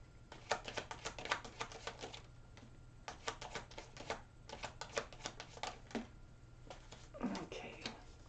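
Tarot cards riffled and shuffled in quick, papery bursts of clicks, two main runs with brief pauses between, close and moderately loud over a low steady hum.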